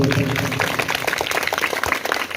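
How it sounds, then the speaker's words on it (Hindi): An audience at a school science exhibition claps for a presented project, a dense, crackling patter of many hands that stays fairly loud and close for a couple of seconds. "जो ये प्रोजेक्ट प्रस्तुत किया जा रहा है उसके लिए सबसे पहले एक बार तालियां बजा दो।"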